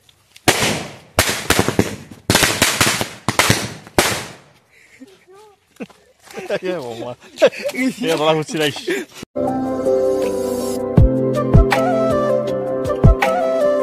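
A string of firecrackers bursts in rapid, loud pops on a small raft in Assam, a dense crackling run lasting several seconds, followed by people talking and then tonal background sound.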